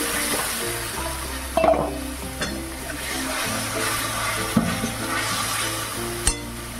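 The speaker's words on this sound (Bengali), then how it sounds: "মশলাটা আমি 2 মিনিটের মতন একটু ভেজে নিলাম। এবার একটু গরম জল দিয়ে দিচ্ছি।" Hot water poured into Bengali spice paste frying in a pan for katla fish kalia gives a steady sizzling hiss with a few sharp bubbling bursts, close up and with no talking.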